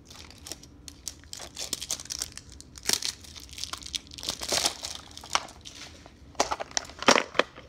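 Crinkly plastic packaging crackling and tearing as it is opened by hand, loud and close, in irregular bursts with brief pauses.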